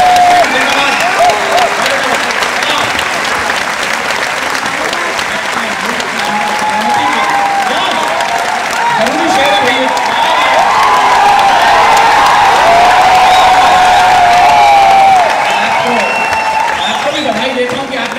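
An audience at a Hindi kavi sammelan poetry recital claps loudly and continuously, a dense close wave of applause with scattered cheers and whoops, and a voice speaking over it.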